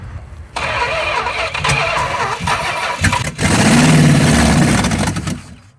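A junkyard 440 big-block V8 transplanted into a Suzuki Samurai cranks and fires, catching after a short stumble and settling into a loud, rough, rumbling run close by, with no talk over it.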